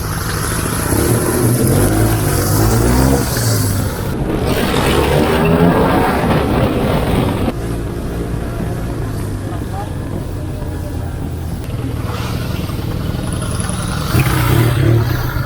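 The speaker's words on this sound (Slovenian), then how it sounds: "Glejte, ta motor." A motorcycle engine runs loud and close, holding a rough steady drone with surges of revving, while people talk over it throughout.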